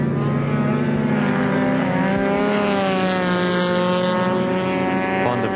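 Touring cars race at Warwick Farm circuit in 1973, an engine roaring steadily with rising and falling revs that sound harmonically rich, close and loud, with wind rumble and no speech.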